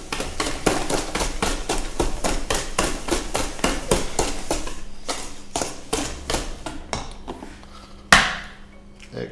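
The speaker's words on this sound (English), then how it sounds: "At some point it's easier to swap for a whisk." Eggs whisked into banana bread batter in a bowl, a fast steady run of close, sharp clinking strokes that thin out near the end, followed by a single louder knock.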